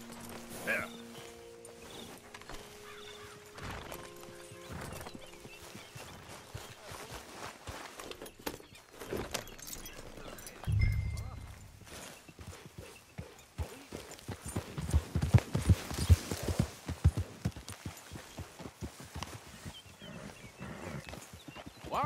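In the Red Dead Redemption video game, horses' hooves clip-clop as riders travel together. The steady hoofbeats run under conversation, growing louder and busier toward the end.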